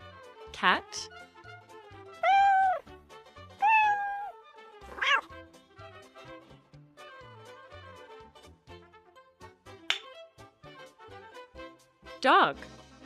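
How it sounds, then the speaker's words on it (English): Several cat meows, some drawn out and whiny, sound one after another with short pauses, close and clear over a quiet background. "Cat."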